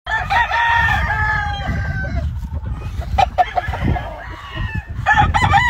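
Chocolate roundhead chickens on a California farm crow loudly near the start, then cluck and call intermittently over a low background rumble.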